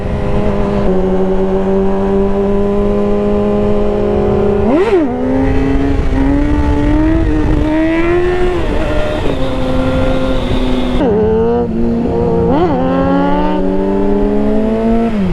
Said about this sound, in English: Our bikes are too loud.